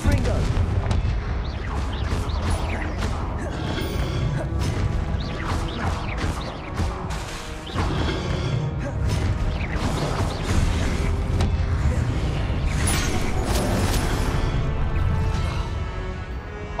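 In Hogwarts Legacy, the Confringo fire spell blasts in a dense stretch of booming explosions and crashes, mixed with other game noise at a steady loudness.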